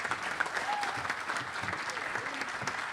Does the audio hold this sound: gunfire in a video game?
no